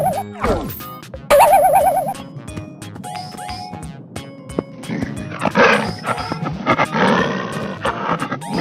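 A tiger in a painted-animal transformation cartoon roars loudly among other cartoon whacks, crashes and sound effects, close and without talk.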